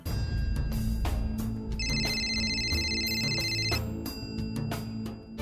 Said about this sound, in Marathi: राधिका फोन उचल ना बाई, किती वेळा फोन करू बाई